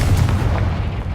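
Confringo fire spell going off in the video game Hogwarts Legacy, a deep rumbling blast with low booming bursts that fills the clip loudly and evenly with no voices.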